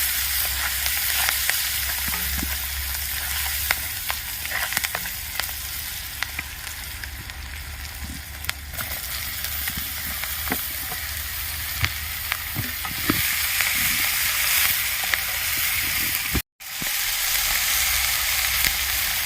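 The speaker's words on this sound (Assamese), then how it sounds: "কেঁচা জলকীয়াখিনি অলপ মই ভাজি লৈছোঁ" Steady oily sizzling of green chilies frying in a pan, continuous and close, with a brief cut near the end before the sizzle resumes.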